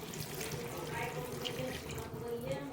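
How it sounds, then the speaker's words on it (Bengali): Water runs in a continuous close trickle as it is poured into a spoonful of cornflour to make a slurry for chilli chicken gravy, with faint background kitchen noise. "এক চামচ কর্নফ্লাওয়ার বলে জল দিয়ে দেবো"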